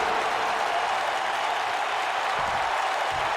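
A wrestling arena crowd in WWE 2K, a sold-out Kansas City audience, roars and cheers in a dense, continuous, loud wall of noise that holds steady throughout, with faint low thumps underneath.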